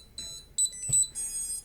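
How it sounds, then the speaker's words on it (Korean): A small electronic buzzer on a homemade STM32 drone, set off by flipping a three-position switch, sounds a series of short, high, shrill beeps close by, with no talking. "이걸 맨 밑으로 내리면 알람이 울리게 해놨습니다"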